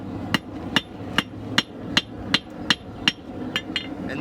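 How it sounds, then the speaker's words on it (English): A blacksmith's hammer beats metal on the edge of an anvil in a steady series of about eleven sharp ringing strikes, evenly spaced and close, with no voices. "So putting it on the edge of the anvil and beating it a few times just to create that shelf again."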